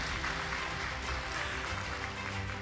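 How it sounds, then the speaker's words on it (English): Audience applause at a business services forum and awards ceremony in Bucharest, a dense steady round of clapping from a crowd lasting throughout. "We can hear a round of applause for Corina Vasile."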